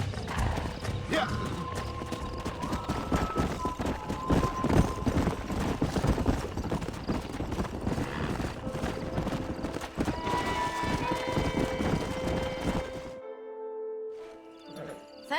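Hooves of a stallion in Red Dead Redemption clip-clop in a fast galloping rhythm for most of the stretch, with a whinny and game voices talking before the sound cuts off near the end.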